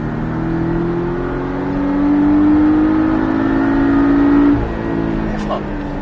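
A Porsche Cayman 718S accelerating on a race track at Mettet, its engine note climbing steadily then dropping off, loud and close, with people talking over it.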